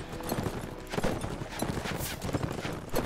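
Horse hooves clip-clop in a rapid, uneven rhythm as mounted units ride during a battle in the video game Mount and Blade: Warband, with scattered clashing game noise around them.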